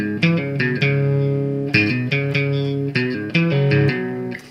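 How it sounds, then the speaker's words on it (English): Electric guitar playing the main riff of a song, a string of plucked notes and sustained bends with light distortion and effects, loud and clear with no talking. "And after that, it leads into the main guitar riff, which sounds like this."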